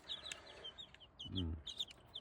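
A rooster and chickens cluck and chirp softly in the background, with one lower throaty cluck standing out midway; faint, irregular farmyard calls.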